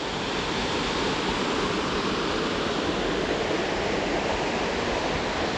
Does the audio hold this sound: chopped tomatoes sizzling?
no